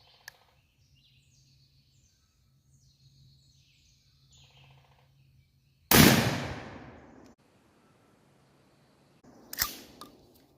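A Remington 870 12-gauge shotgun with a 28-inch barrel fires a Winchester SuperX 3-inch turkey load outdoors: one loud, sharp blast with a decaying echo, then a fainter second report as birds chirp quietly in the background.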